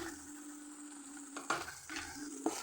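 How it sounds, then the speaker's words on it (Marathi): Spices for black moth bean usal are stirred and fried in hot oil: a soft, steady sizzle runs throughout, broken by two brief scraping stirs of the spoon, with no talking. "आता हे मसाले पण असे व्यवस्थित मिक्स करून घेऊ आणि त्याला छानपैकी परतून घेऊ तेल सुटेपर्यंत"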